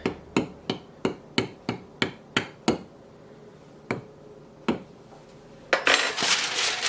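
Holes are poked into the pastry base of a light cheese dessert, giving about ten crisp, evenly spaced taps. After a pause come a couple of isolated taps, then a louder rattling clatter at the end.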